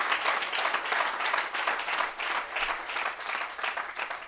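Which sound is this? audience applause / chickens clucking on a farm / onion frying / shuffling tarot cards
audience applause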